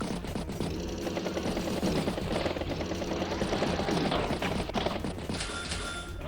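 A battlecopter unit in the Advance Wars by Web strategy game gives off a dense, fast rotor chatter with a mechanical, rattling edge, loud and continuous for several seconds before thinning out at the end.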